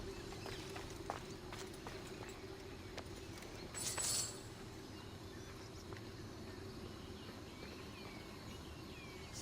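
Horse clip-clop in Assassin's Creed Odyssey game ambience, a faint, steady hoof rhythm under a low continuous rumble, with a brief brighter burst near the middle.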